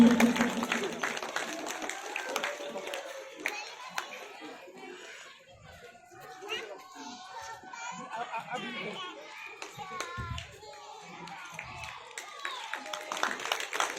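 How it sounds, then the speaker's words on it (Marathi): Scattered clapping rises from an audience at a public political meeting, mixed with children's voices and crowd chatter, the applause fairly faint and uneven beneath general hubbub. "टाळ्या वाजवा ना"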